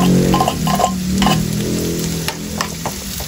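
Corned beef sautés in a pan with a close, steady sizzle, broken by scraping stirs and light utensil taps against the pan.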